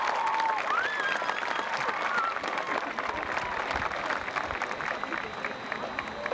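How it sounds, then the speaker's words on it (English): An audience applauds the WVU Marching Band, dense steady clapping from a large crowd, loud and sustained, with a few whistles near the start and faint voices mixed in. "Can you please give them a deserved round of applause?"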